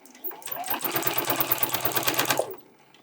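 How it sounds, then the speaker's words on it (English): A sewing machine stitches a tote bag in one short, rapid run, its quick regular needle clatter starting, holding steady for about two seconds, then stopping. "so I'm just going to go a little bit closer to the corner with the needle down, lift the presser foot, pivot, and lower the presser foot, and just keep going"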